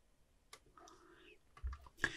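Computer keyboard keys pressed for a Ctrl+Shift shortcut, a few faint scattered clicks in a quiet room, ending with a sharper tap.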